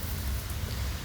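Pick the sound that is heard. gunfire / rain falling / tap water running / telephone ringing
rain falling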